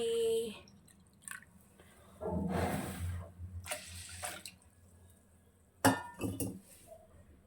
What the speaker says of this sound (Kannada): ಅಕ್ಕಿ ಹಾಕ್ಕೊಂಡಿರೋ ಲೋಟದಲ್ಲೇ ನಾನು ಹಾಲು ಹಾಕ್ಕೋತಾ ಇದ್ದೀನಿ